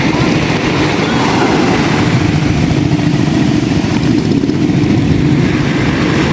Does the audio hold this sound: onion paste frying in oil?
no